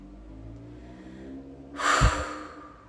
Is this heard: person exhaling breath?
yes